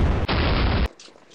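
A loud gunfire burst from a World War II Philippines campaign war game: a sharp crack, then a dense roaring blast lasting over half a second that stops abruptly, leaving a faint, hissing tail.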